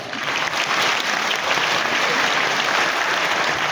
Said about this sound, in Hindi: तो बड़ा काम तो बड़ी तालियां।